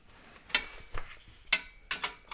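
Ratchet tightening the rear bolts of a car exhaust resonator, done without a pit: a few separate bursts of clicking, each a short run of ratchet ticks, fairly close and moderately quiet with pauses between.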